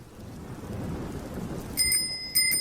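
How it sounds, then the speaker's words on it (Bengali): Thunder rumbles low and steady as rain begins in a Bengali fairy-tale cartoon, with bright chiming tones cutting in twice near the end. "এই সময় আবার বৃষ্টি নামলো কেন?"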